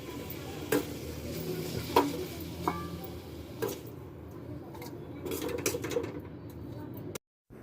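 A spatula scrapes cooked vegetables out of an iron kadhai in a home kitchen, making faint, scattered metallic scrapes and light clinks at irregular intervals over a quiet background.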